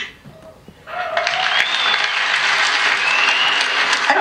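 Audience applause at a Build Windows conference in a Riga cinema hall, starting after a quiet pause and swelling into sustained, dense clapping that holds steady to the end.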